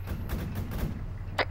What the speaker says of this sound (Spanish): Disparo, disparo, disparo.